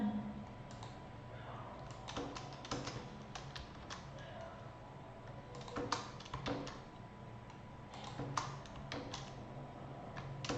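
Code is typed on a computer keyboard with quiet, irregular tapping and clicking keystrokes, fairly close, over a low steady hum with no talking.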